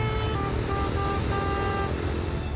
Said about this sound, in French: Le concert de klaxons a déjà commencé.